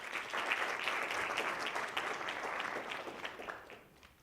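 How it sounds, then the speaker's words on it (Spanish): Sustained applause from a conference audience welcoming a speaker onto the stage, a dense steady clatter of many hands that fades slightly toward the end. "Muy fuerte aplauso para Marilu Páez."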